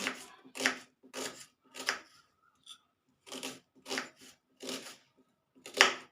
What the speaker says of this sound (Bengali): এই পেঁয়াজটাকে আমি ছোট ছোট করে কেটে নিচ্ছি